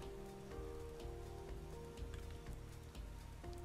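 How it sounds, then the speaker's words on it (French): Rain pattering steadily in Pro Cycling Manager 2016 during a race in northern Belgium, a soft even hiss of drops under droning background tones and game music. "alors qu'il fait que pleuvoir toute la journée"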